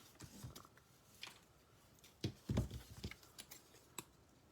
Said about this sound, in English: And this one's going to snip part of that flower right off